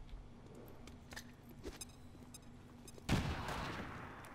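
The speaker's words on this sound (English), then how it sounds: "we'll have you chunk a grenade down" A grenade detonates in the video game XCOM 2, a single sharp blast with a rumbling tail following a few faint clicks and taps.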